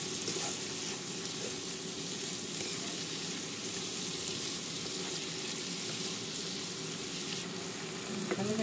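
Cashews, tomatoes and salt for butter chicken are mixed in a hot pan, giving a steady, even sizzle with faint scraping beneath it and a sharper clack near the end.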